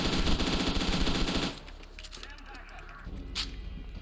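Rapid automatic enemy gunfire from the shooter video game F.E.A.R. 2, loud and dense for the first second and a half, then dropping to sparser, quieter shots and a brief sharp burst, with a voice talking over it.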